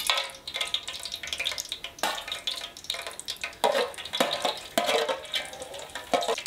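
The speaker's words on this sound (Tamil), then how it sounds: "எண்ணெய் சூடாயிச்சு. இப்போ நம்ம வந்து இந்த பட்டை கிராம் எல்லாம் சேர்த்துக்கலாம்." Cinnamon and cloves sizzling in hot oil in a pan for chicken biryani, a steady crackling fry broken by sharper spits and stirring scrapes.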